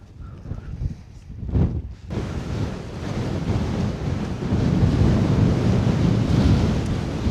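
Strong wind buffets the microphone on the Bealach na Bà mountain pass in Scotland, a loud rumbling roar that dips briefly, then surges back and stays heavy and sustained.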